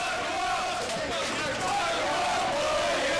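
Dense crowd noise from a packed audience at an IWS hardcore wrestling show in 2006, roaring and shouting steadily throughout as Max Boyer brawls on the floor with El Generico, with no gaps or quiet moments.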